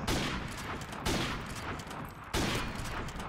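Rapid rifle fire in a first-person shooter sniper free-for-all on a beach map, three sharp loud shots in quick succession, each followed by a dense rumbling tail.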